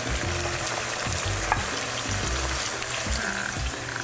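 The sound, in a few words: squid frying in hot oil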